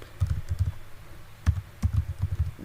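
Close-up keystrokes on a computer keyboard, typed in quick bursts with a short pause between groups.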